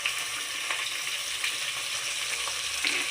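Chopped onions and green chillies frying in a pan while being stirred, giving a continuous close sizzle with occasional scraping stirs.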